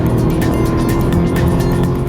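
Ferrari 458 sports car lapping a race track at Buddh International Circuit, its engine roaring loud and steady up close with rising high-pitched revs throughout.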